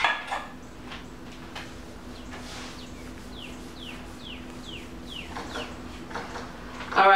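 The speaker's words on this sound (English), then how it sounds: "you wanna stir this constantly" A spoon scraping repeatedly around a pot of banana soufflé mixture, a quiet rhythmic series of strokes at a steady pace, with brief voice fragments at the start and end.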